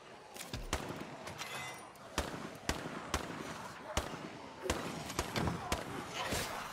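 Gunfire in the zombie survival game State of Decay 2: a string of sharp, loud shots fired at uneven intervals, with some talk mixed in.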